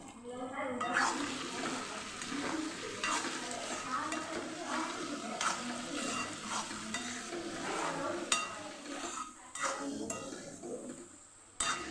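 A spoon stirs and scrapes through vegetables and tomatoes sizzling in a pan, with steady frying noise, light clinks of utensil on metal, and faint talk in the background.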